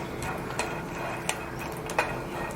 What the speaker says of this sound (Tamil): இது மாதிரி நல்லா பொரியிற சத்தம் கேட்கும்.